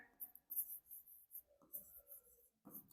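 Chalk or marker writing on a board, heard as soft intermittent scratchy strokes up close with short gaps between them, quiet overall.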